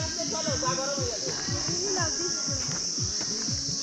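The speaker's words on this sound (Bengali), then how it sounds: "ঝিঝি পোকার ডাক, ঝিঝি পোকাটা ছেড়ে দাও।" Crickets chirping steadily at night on a Kolkata-to-Sittong road trip, a continuous high trill running throughout while people talk over it.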